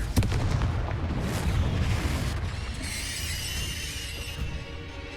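A Confringo fire spell in the Hogwarts Legacy video game goes off with a heavy booming blast, then rumbles away into crackling, ringing tones, with no voices over it.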